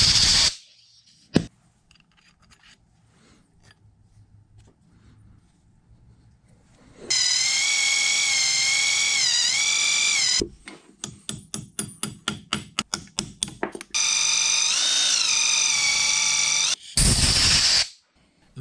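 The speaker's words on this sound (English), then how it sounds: "So the process of reaming this hole out to size should go a lot faster." A drill reams a hole out to size for a taper pin, running in several loud whirring bursts broken by pauses and a rapid series of short pulses.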